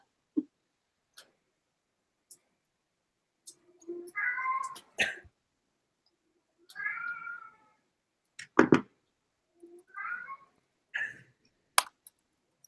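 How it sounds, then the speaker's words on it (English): A pet cat meows loudly and repeatedly indoors right after his dinner, several drawn-out calls spaced a second or two apart with soft clicks and taps between them, heard close with no talk. "Your cat's so loud."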